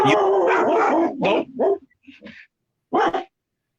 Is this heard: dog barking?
yes